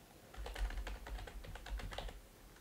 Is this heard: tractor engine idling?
no